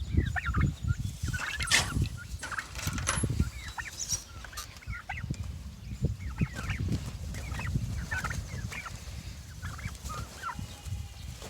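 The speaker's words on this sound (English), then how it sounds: "these turkeys are doing great" A flock of turkeys gobbles outdoors on a hot day in repeated bursts of bubbly calls, some close and others farther off, with clucks and low farmyard noise between them.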